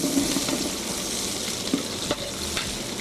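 Onions sizzle in hot fat at the start of a biryani base, with no garlic or ginger yet, a loud continuous frying hiss close up, broken by occasional stirring scrapes and crackles.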